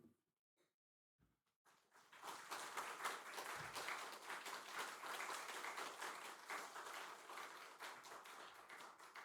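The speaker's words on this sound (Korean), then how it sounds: "우리 김태강 목사님 나오실 때에 우리 박수로 크게 환영해 주시기 바랍니다." A church congregation at a Wednesday worship service claps to welcome a visiting pastor, starting after a few scattered taps and swelling into steady, fairly soft applause across the room that holds until the end.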